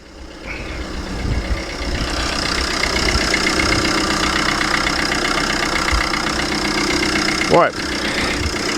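A Ford Transit van engine idles steadily after being repaired, a smooth even mid-pitched rumble that holds throughout, with a single brief spoken word over it.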